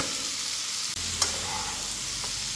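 Chicken pieces stir-fried with vegetables in a pan, giving an even sizzle that runs throughout, with a sharp utensil tap partway through and a few soft scrapes.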